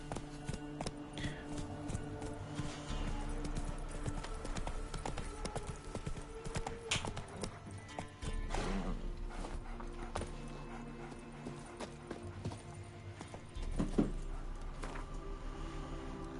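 Roach, a horse in The Witcher 3 video game, gallops with a steady, rhythmic clip-clop of hooves over a game music bed, with a brief snort or whinny partway through.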